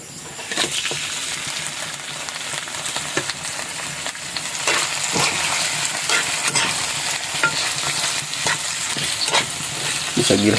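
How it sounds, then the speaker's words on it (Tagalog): Ingredients sauté in a pan at a riverside catch-and-cook, giving a steady close sizzle broken by repeated scraping stirs of a utensil. "Gisa-gisa lang muna tayo ngayon kasi ano eh, wala pa tayong gulay na haluan."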